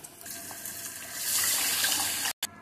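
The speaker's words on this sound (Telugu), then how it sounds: "చింతపండు పులుసు వాటర్ కలిపి పెట్టుకున్న ఈ పప్పుని చారుని ఇప్పుడు పోపులో వేసుకుందాం" Tamarind-water dal broth for pappu charu poured into a hot tempering, a steady close rush of liquid that grows fuller partway through, with a brief sharp cut near the end.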